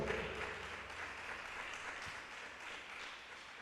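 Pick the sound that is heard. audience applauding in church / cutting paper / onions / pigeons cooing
audience applauding in church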